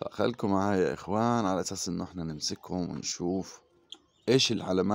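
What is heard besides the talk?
No distinct noise like a dog, phone or traffic.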